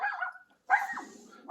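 A little dog barking somewhere indoors, several sharp yappy barks in quick bursts separated by short pauses, fairly close and clear with no talking over them.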